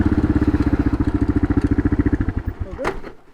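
A KLR 650 motorcycle idles and revs nearby, its single-cylinder engine thumping in a steady, loud pulse before cutting out, followed by a brief clatter.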